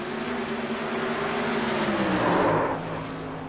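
Paved sprint cars race at Iowa Speedway, with a loud engine whine that climbs in pitch and swells as a car closes in and passes, then fades.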